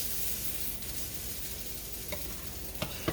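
Potato patties fry in a skillet with a steady, even sizzle throughout, broken near the end by a few sharp scraping clicks of a spatula moving them aside.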